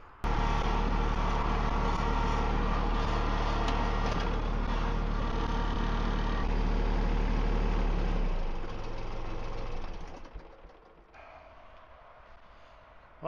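Tractor engine droning steadily while a box blade is dragged, loud and close, then dropping off toward a quieter idle near the end, with no talking.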